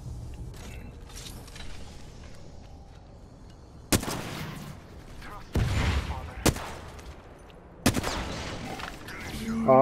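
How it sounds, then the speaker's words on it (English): Gunfire from the battle royale game Apex Legends crackles in several sharp, loud bursts, each starting abruptly and lasting about a second, over a steady low game ambience. "Oh, getting shot behind me."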